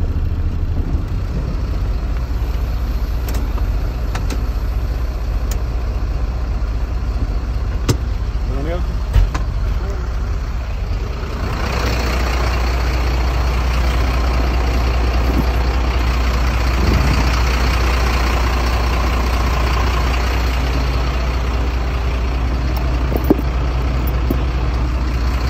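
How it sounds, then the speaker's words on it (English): A truck engine idles in neutral with the brakes set during an in-cab inspection, a steady loud low rumble running unbroken throughout. "So I make sure my truck is in neutral, engage both my brakes."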